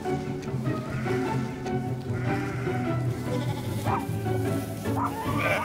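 Sheep bleat a few times amid a noisy outdoor background, the calls moderately close and overlapping a steady low rumble.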